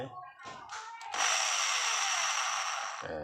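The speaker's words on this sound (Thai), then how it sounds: "ลองดูซิว่าดอกสว่านเมื่อใส่แล้ว ทดสอบดูว่าแกว่งหรือเปล่านะครับ" Electric drill with a freshly fitted metal-drilling bit spins up steadily for about two seconds in a free-running test for wobble, a loud, even whine following a brief voice and mechanical clicks, then stopping.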